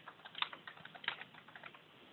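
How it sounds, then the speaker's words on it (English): A date is typed on a computer keyboard in an EMR software screen: a quiet run of soft, irregular key taps with a couple of sharper presses, no voice. "you can do so by clicking Edit and then typing the date in here"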